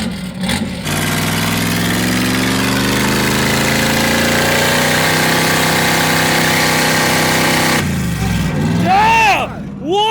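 A Pontiac Firebird fitted with a homemade quad turbo setup roars through a wide-open dyno pull, its engine note climbing steadily and loud for several seconds before cutting off into whooshing turbo spool-down and chatter from people nearby.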